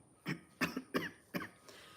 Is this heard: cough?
yes